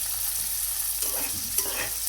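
Onions and green chillies frying with cumin in a hot pan, a continuous close sizzle with a couple of brief stirring scrapes partway through; no one speaks.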